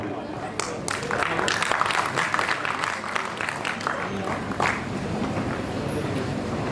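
An audience claps at a university convocation ceremony, a scattered, moderately loud patter of many hands that builds and then thins out over several seconds, with voices in the background.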